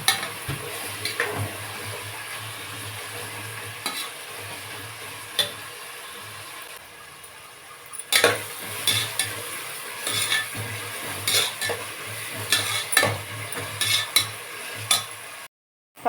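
Sliced onions frying and being stirred in a pan for chicken biryani, with steady sizzling and repeated scraping, clinking stirs throughout, a brief quieter lull midway, no talking.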